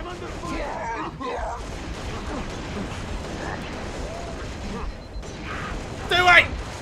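Game gunfire from Halo Reach crackles through a busy firefight, steady dense bursts under constant noise with a sharper louder burst near the end; people talk over the action.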